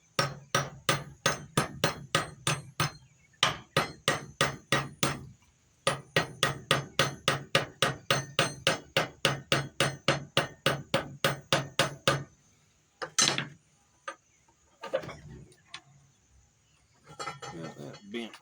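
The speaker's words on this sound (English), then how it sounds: "Peen one side of it before you put it through the handle, and then cut it off to fit" A hammer peens metal pins for a forged Bowie knife handle held in a vise, landing long runs of rhythmic, ringing metallic blows with brief pauses between series, close and loud, with a few scattered knocks at the end.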